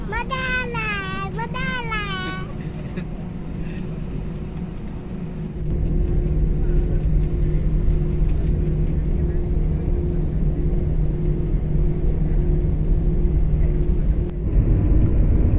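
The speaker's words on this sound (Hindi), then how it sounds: "फ्लाइट अब उड़ान के लिए गति करते हुए काफ़ी तेज गति से ये दौड़ने लगा है" Passenger airplane speeding down the runway for takeoff on a Ranchi to Goa flight, a steady loud cabin rumble and engine roar that swells partway through, with a voice speaking briefly at the start.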